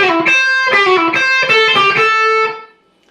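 A distorted electric guitar plays a fast, memorable lick in a blues-rock style, with bright repeated picked notes that ring out and fade at the end.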